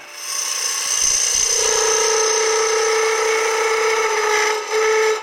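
A wood lathe chattering while turning: a steady, loud whirring drone with a resonant pitched whine and rough rattling vibration, continuous, briefly dipping near the end before resuming.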